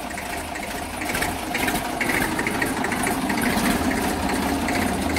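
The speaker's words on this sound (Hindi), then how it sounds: "आज जो है हमारे अंकल जी हमारे मेसी 97 मॉडल की टेस्ट ड्राइव ले रहे हैं" A Massey Ferguson 97 model tractor in original condition, on a test drive, runs steadily with a dense, continuous engine clatter and rumble, fairly loud and close, with no talking.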